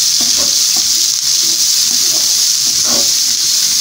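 Onion frying in a pan, a steady bright sizzle throughout with faint stirring clicks and scrapes underneath, close and fairly loud, no voices.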